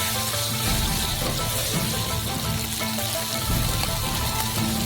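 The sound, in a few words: black beans and hot pepper frying in a pan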